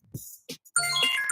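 A phone ringtone chimes loudly with a bright, repeating melodic pattern, preceded by a few short low thumps and a brief gap before the ringing starts and continues.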